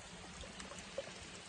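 A mountain stream flows near Piedecuesta, Santander, Colombia, making a faint, quiet trickling and pouring wash with a few soft droplet splashes, heard alone without talking.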